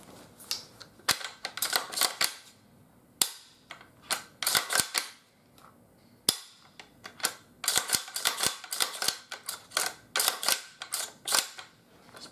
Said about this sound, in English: we'll go ahead, grab the bolt, do a function check